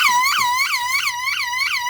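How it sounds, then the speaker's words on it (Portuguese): An Intelbras SA 202 alarm siren wired to a bench power supply wails loud and close, its piercing tone sweeping up and down in rapid repeating cycles with no pauses. "Vou usar a fonte de bancada para verificar qual é a corrente de consumo dessa sirene. Deixar ela aqui porque o barulho é muito alto."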